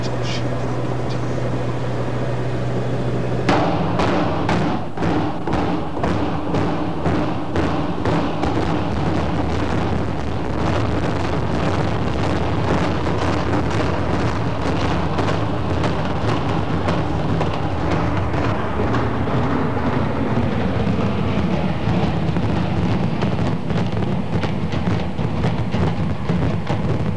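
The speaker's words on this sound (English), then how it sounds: "They have brought down the house at Atlanta Fulton County Stadium" Implosion demolition of Atlanta Fulton County Stadium: a sudden loud blast opens a dense run of rapid cracking detonations, then a long rumbling roar of collapsing structure that fills the whole span.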